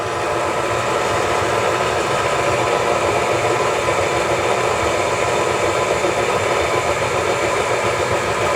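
A stand mixer's motor runs steadily while mixing cookie dough, a constant close whirring drone with no pauses or voices.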